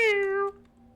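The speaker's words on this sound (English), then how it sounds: "Here's a free meow." A single cat meow, close and clear, a bright drawn-out call that fades quickly into quiet room tone.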